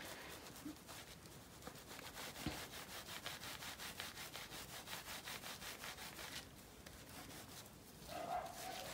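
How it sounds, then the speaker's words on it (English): Fingers rubbing the cut edges of wet felt made from batt fibre, a steady soft scratchy friction that runs continuously and close up, with no talking. "it doesn't take long just to give them a bit of a rub"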